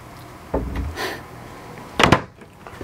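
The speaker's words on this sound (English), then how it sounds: "Pocket door with a great latch on it, so it's truly a locking latch" A pocket door with a locking latch inside a 2019 Thor Palazzo Class A diesel motorhome slides and clicks, with a soft thump early on and a sharper latch knock near the end, close by.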